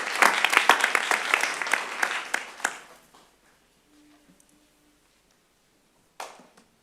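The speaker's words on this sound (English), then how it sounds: "I'd like to give a round of applause to Pine River" Audience at a school board meeting claps for about three seconds, dense and fairly close, then tapering off into near silence before a brief rustle at the end.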